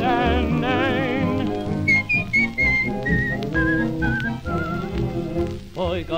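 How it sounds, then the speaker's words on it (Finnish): Melodic whistling carries the tune in a 1942 Finnish street-boys' song, bright whistled phrases over a full band accompaniment, loud and upfront. "niin silloin vihelletään näin"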